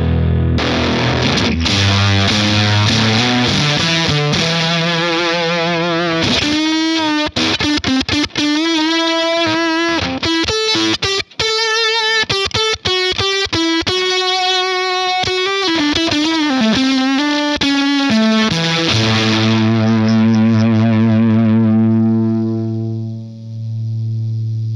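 Electric guitar played through a Dunlop Octave Fuzz pedal, loud and continuous with thick, buzzing, saturated tones shifting from note to note over nearly half a minute before a sustained final chord rings out.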